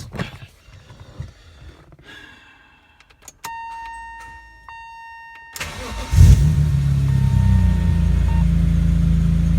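A 1991 BMW E30 M3 fitted with an S54 engine, which had a fuel pump priming issue, is heard close by. The engine cranks and catches partway through, then settles into a loud, steady idle.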